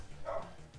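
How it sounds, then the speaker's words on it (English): A single short dog bark from the video game La-Mulana, brief and soft, sitting over a quiet looping game music bed. "There's a dog everywhere."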